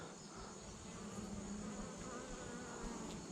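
Honeybees hum steadily in an open hive holding drones, a close, continuous buzzing drone with no talk over it.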